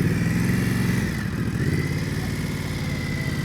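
A motorcycle engine runs at slow speed with the throttle held steady during slow-speed riding practice, a close, continuous mid-pitched drone with a slight dip in pitch partway through.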